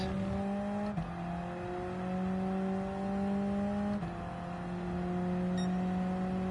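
A 1972 Alpine A110 in Gran Turismo 7 pulls hard at full throttle, its engine droning at a steady, rising pitch through two quick gear changes, loud and continuous with no talk.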